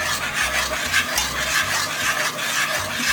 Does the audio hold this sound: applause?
no